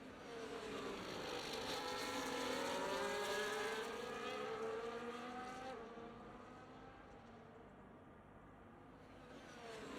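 Formula 1 cars in a video game round the Brazilian Grand Prix, their engines a faint, continuous high whine that climbs and falls in pitch as the cars accelerate and brake.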